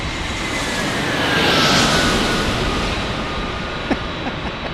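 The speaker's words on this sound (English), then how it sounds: "Oh, there we go, Frontier and A321 from Denver." A Frontier Airbus A321 jet arriving from Denver passes as a steady, broad engine roar that swells slightly and then holds, loud and close, with no talk over it.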